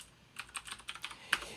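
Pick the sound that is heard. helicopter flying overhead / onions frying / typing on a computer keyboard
typing on a computer keyboard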